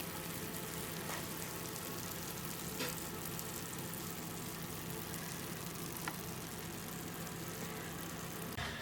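Potatoes fry in a pan until crispy, giving off a faint, steady, continuous sizzle with a few soft clicks and no voices.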